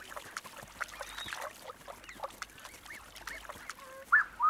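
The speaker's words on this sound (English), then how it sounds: "These blue-winged geese have young goslings" Faint calls of blue-winged geese scattered over quiet outdoor ambience, with a sharper honk near the end.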